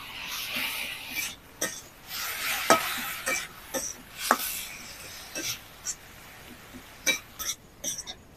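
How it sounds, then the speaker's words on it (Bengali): A spoon stirs and scrapes chicken momo filling of minced meat, black pepper and soy sauce in a wok, making irregular clacks and scrapes over a faint background hiss. "মোমো যখনই বানাবেন একটু এইভাবে পুরটাকে কড়াইয়ে নেড়ে নেবেন"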